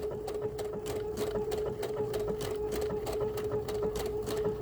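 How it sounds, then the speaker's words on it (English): A sewing machine runs slowly while stitching around a corner of a quilted blossom wall hanging, giving an even, close mechanical hum with a quick, regular rhythm of needle strokes. "My machine will allow me to take a stitch manually here to advance that just around that corner"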